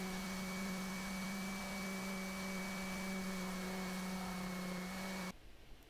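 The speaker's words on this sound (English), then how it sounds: "I decided just to remove that piece and sand it back a few millimeters using the old sander" An electric sander runs on a plastic soundbar piece, giving a steady high whine with a constant hum for about five seconds before cutting off abruptly to faint room noise.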